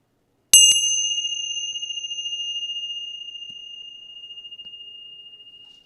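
A single bright bell strike rings out during a meditation session, clear and close, then its pure tone sustains and slowly decays with a gentle pulsing shimmer over several seconds in otherwise silent surroundings.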